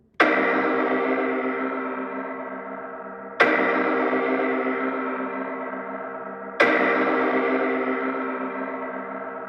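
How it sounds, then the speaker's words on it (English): Three loud, rich synth chords, each struck sharply and held for about three seconds, with a gritty, buzzing distorted edge that slowly fades. "Now we need to add that quite extreme distortion."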